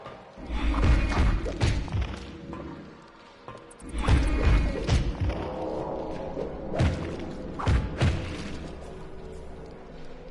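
Claw strikes landing in the video game Blood Omen 2, heard as heavy thuds and crashing impacts that come in clustered bursts with swishes between them, loud and close over a low background hum.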